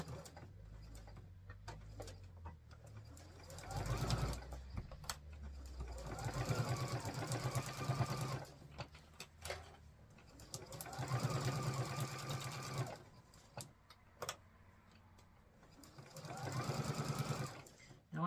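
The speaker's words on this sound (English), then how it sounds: "I'm sewing this with vinyl side down." Sewing machine stitching vinyl at a 3 mm stitch length: steady whirring runs of fast mechanical stitching in several bursts with short pauses between, close and fairly loud, with someone talking over parts of it.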